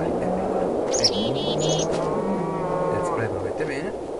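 Cows mooing in the video game Minecraft, several low drawn-out moos overlapping across a steady background of game noise, moderately loud and close.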